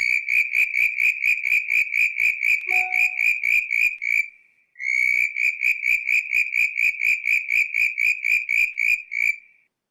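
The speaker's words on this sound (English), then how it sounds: "So you've got to go down to the tree frogs to hear this one." A tree frog calls nearby in rapid, evenly spaced whistling pulses, one long run, a short pause, then another steady run.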